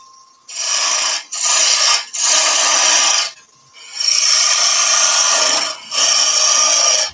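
A bowl gouge cutting a spinning wood workpiece on a lathe while shaping candlestick tea light holders, a steady hissing rasp in five long passes separated by short gaps, close and loud with no talking.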